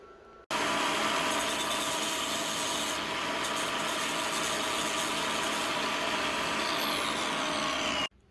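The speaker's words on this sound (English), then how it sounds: "So let's clean up the ends and get it out of the lathe." Abrasive metal disc pressed against spinning wooden ends of a starting-rope handle on a lathe, a steady loud rushing grind lasting several seconds and then cutting off abruptly.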